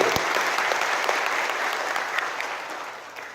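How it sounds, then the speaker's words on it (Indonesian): A crowd at a community organization's assembly gives a burst of applause, a sustained dense clapping that slowly tapers toward the end. "Tepuk tangan sekali lagi."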